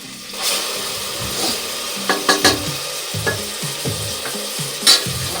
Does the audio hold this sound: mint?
yes